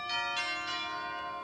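Organ chimes ring out in a few bright, bell-like strikes that overlap and then fade away, sustained tones lingering softly.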